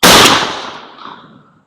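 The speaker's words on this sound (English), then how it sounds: "Safety off and firing." A single loud shotgun blast from a buckshot shell, a sharp broadband crack at the start that decays over about a second and a half, with no talking.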